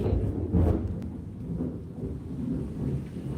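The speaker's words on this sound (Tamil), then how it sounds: "முழுக்கிது மழை பெஞ்சு இடிச்சிட்டு கிடக்கு" Thunder rumbles low and heavy over steady rain during a downpour, a deep roll swelling early then fading into continuous rainfall with no voices.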